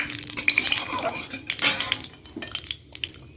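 Potato curry with cumin, dried chilli, cardamom, cinnamon and cloves stirred in a pan: close scraping and clinking of a utensil against metal, irregular strokes over a light sizzle, with no voices.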